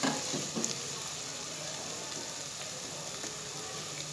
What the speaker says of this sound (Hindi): अब फिर से हम दोबारा से इसे भून लेंगे टमाटर के साथ, और टमाटर को सॉफ्ट कर लेंगे।